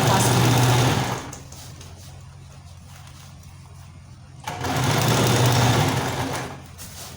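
A sewing machine stitching elastic band onto a fabric sleeve runs in two loud, steady bursts, close up, with a quieter pause between them where the fabric is handled.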